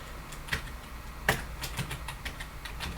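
A few keystrokes on a computer keyboard as a network configuration command is typed, with scattered, fairly soft taps over a steady low hum.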